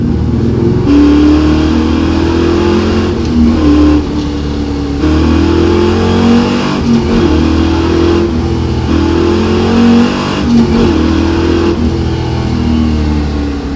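A 400-horsepower 1968 Chevrolet Camaro engine revs hard and repeatedly, its loud exhaust roaring and dropping between throttle blips, close and continuous.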